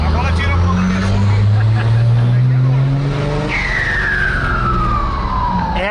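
A loud, high-pitched turbo whistle from a 400 hp six-cylinder turbo-diesel Chevrolet Silverado rises and then slides downward in long tonal sweeps over the engine's roar, with voices talking alongside.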